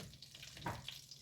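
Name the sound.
vegetables sautéing in a pan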